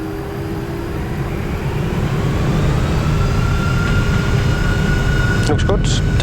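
An Air Greenland Airbus A330 jet takes off at Copenhagen, a loud, steady broadband engine roar with a low rumble and a sustained tonal whine that builds slightly over several seconds, with a brief clatter near the end.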